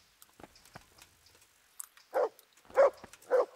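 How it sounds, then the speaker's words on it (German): A dog in the medieval game Kingdom Come: Deliverance gives three short, fairly close barks in quick succession after some faint scattered clicks and footsteps. "Ey Hund, mach nicht so einen Krach hier."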